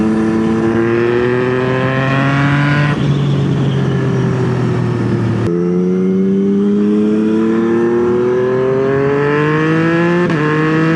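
A Yamaha MT-09 motorcycle engine roars loudly and close, its pitch climbing and dropping through rapid downshifts with quick automatic throttle blips between gears.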